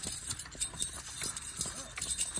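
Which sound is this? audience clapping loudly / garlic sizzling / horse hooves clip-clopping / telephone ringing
horse hooves clip-clopping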